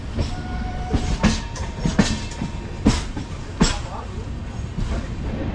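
A passenger train running from Tirunelveli to Perambur rumbles loudly from inside a carriage, with a steady roar and a series of rhythmic wheel clacks over rail joints, while voices talk faintly underneath.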